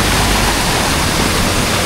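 Strong river water rushing after a flood, a steady, dense roar of moving water that fills the whole clip loud and close with no pauses.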